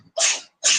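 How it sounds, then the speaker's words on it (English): A house cat sneezes twice in quick succession, two sharp, close, breathy bursts separated by a short pause. "kitty cat's got the sneezes."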